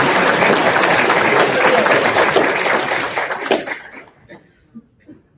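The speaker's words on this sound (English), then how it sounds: "can we just give them a round of applause" Applause from the audience at a learning center graduation ceremony, dense steady clapping that fades out after a few seconds into a few scattered claps.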